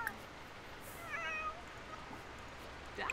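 A cat in a Sims life-simulation game gives a few soft, faint meows over a steady low hum of background noise.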